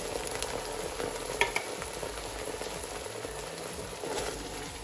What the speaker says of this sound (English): I'm going to go in with 2 28-ounce cans of tomato puree.